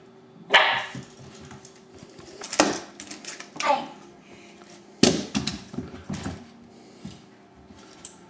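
An eight-week-old puppy yips and barks in a few short bursts spaced across several seconds, close and fairly loud, with a person's voice in the room and quiet gaps between barks.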